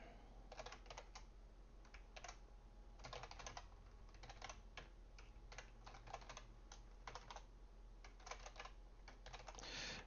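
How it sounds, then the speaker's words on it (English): Fingers type on a computer keyboard in quick irregular bursts of clicks with short pauses between, close and clear against a quiet room hum. "Oops, so simple, I can't type it out."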